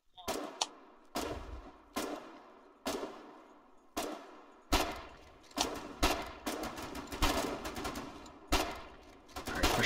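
Bursts of automatic machine gun fire from a WWII-style battle in the online war game Foxhole, coming in repeated short volleys about every second, loud and sharp, with players talking over the shooting.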